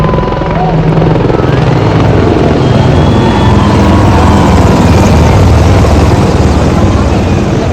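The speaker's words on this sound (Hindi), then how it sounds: "please stand up and work the sign, the Apache Formation" A formation of Apache helicopters flies past at India's Republic Day parade in Delhi, a loud, continuous rotor roar that fills the whole stretch, with voices faintly beneath it.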